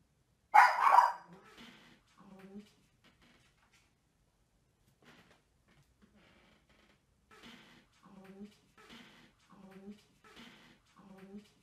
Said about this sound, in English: I took this 5 years ago, was wondering if you guys hear anything after the dog barks.